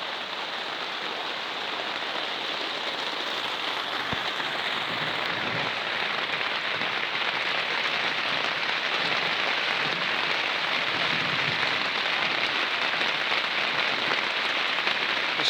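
Steady rain falls during a thunderstorm in Essex, a dense continuous hiss of drops on surfaces, moderately loud and unbroken throughout, with no voices.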